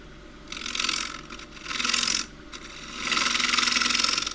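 Half-inch spindle gouge with a steep secondary bevel cutting warped, rough-turned box elder on a lathe for a plate: three rasping, hissing cutting passes, each roughly a second long, separated by short pauses, close and fairly loud, with no talking.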